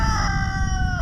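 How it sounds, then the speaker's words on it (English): A rooster crows in one long, loud, sustained call from close by on a Tennessee farm, out of its pen, the strained tones holding steady and bending down at the end. "those are the naughty roosters because they have to be out of the pen"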